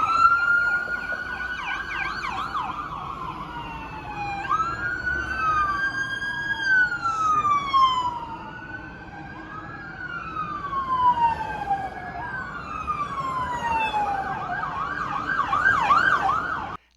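Police car sirens wailing as officers arrive in Louisville after the Breonna Taylor verdict. Several sirens rise and fall in overlapping sweeps, loud and sustained on the street.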